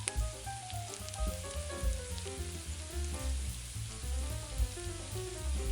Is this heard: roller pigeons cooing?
no